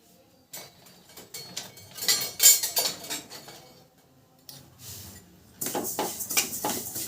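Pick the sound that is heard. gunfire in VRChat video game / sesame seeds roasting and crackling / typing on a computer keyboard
sesame seeds roasting and crackling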